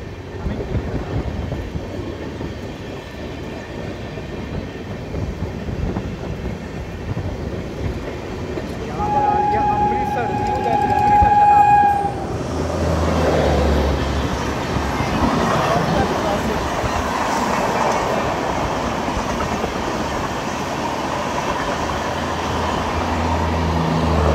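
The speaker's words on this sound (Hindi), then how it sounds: "अपनी ट्रेन अब क्रॉस करने लगी है अमृतसर नई दिल्ली शताब्दी एक्सप्रेस के साथ क्रॉसिंग।" Shane Punjab Express diesel train crossing the Amritsar–New Delhi Shatabdi Express, a steady rolling rumble of passing coaches with a brief tonal horn-like whine midway, then a louder rushing wash as the other train passes close by.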